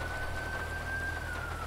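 An ambulance siren in GTA V with the LSPDFR mod wails as a steady, sustained tone at moderate distance, over a constant rushing ambient bed with no talk.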